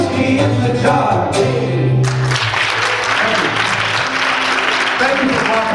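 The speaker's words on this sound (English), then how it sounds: "Thank you for clapping." Audience at a high school show clapping after a folk song, the applause rising as the music's final notes ring out and then continuing as a steady wash.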